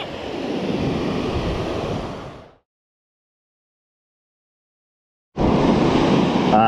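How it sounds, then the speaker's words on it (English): Surf and wind at an ocean beach where pompano are fished, a loud steady broadband wash that cuts out abruptly for a few seconds, then resumes just as strongly. "I just made it out here to the beach."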